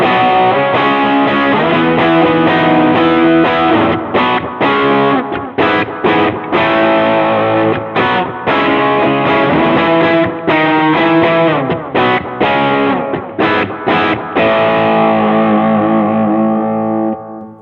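Electric guitar played through an amp modeler dialed for a fat, distorted tone with full low end and mids, loud chords and riffs ringing continuously with short gaps and a sustained final chord.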